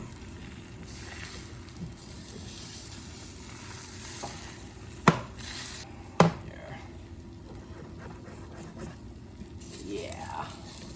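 Eggs frying in a pan over turned-down heat for an omelette with sautéed mushrooms, a soft constant sizzle with two sharp utensil knocks, and a person talking throughout.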